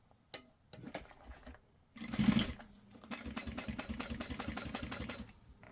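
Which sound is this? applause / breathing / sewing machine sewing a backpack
sewing machine sewing a backpack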